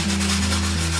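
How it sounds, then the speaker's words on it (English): Steady, close rubbing scrape of wet sandpaper against glass, continuous and fairly loud, with a low hum beneath. "When sanding, make sure the glass and the sandpaper is wet."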